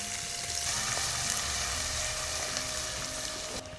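Onion and green chili paste frying in a pan for a quail curry, a steady dense sizzle holding at an even level throughout with no voices.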